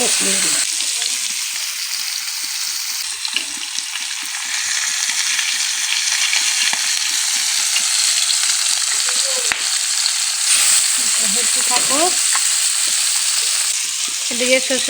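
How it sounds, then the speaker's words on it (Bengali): Whole cumin seeds and crushed onion dropped into hot mustard oil for a fish curry, producing a loud, continuous crackling sizzle that persists throughout, with faint clinks of stirring. "তেল গরম হয়ে গেছে আমি দিয়ে দিতেছি কয়েকটা গোটা জিরা তারপর দিয়ে দিতেছি এই যে থেতো করে রাখা পেঁয়াজ"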